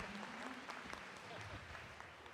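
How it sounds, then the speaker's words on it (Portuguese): A congregation applauding during a Catholic Mass, a steady wash of clapping from a crowd with voices mixed in, somewhat distant and reverberant. "a nossa gratidão, as nossas palmas"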